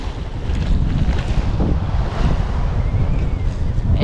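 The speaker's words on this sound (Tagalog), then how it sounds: "Alon yun" Rushing water and waves from a passing ship churning against a hull, mixed with heavy wind buffeting the microphone, loud and continuous.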